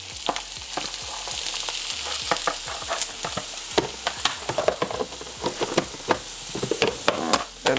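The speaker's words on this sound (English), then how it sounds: "Alright, our oil is hot, so we're gonna add our onions in." Onions sizzle and crackle in hot olive oil in a pan, a loud, busy frying hiss with frequent sharp pops and spits that grow more scattered toward the end.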